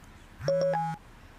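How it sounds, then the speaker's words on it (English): A mobile phone plays a short electronic alert of a few quick tones, clear and close, in an otherwise quiet room. "Gosh, my phone again."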